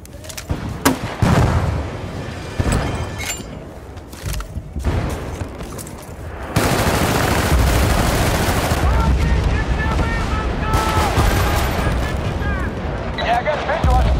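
In the video game Battlefield Bad Company 2, scattered gunshots crack among soldiers' voices before a planted charge detonates in a heavy blast, followed by a long roaring rumble with continued gunfire.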